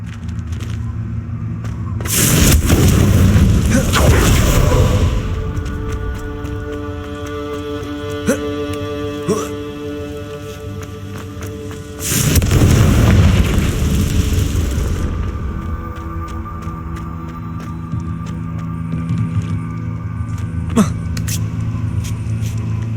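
Two loud booming blasts from the Confringo fire spell in Hogwarts Legacy, each a burst of rumbling explosion that decays over a few seconds, set against a steady low in-game ambient drone.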